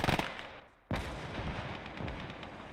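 A T-70 tank blows up in Gates of Hell: Ostfront, a sudden loud blast after a brief lull, followed by a sustained crackling roar of burning and smaller pops, with no talking.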